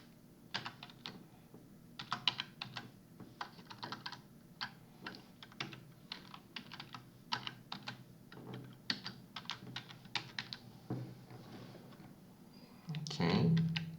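Quiet typing of a short text on a computer keyboard, irregular bursts of soft, close keystrokes with brief pauses between them, ending in a louder muffled bump, with no voices.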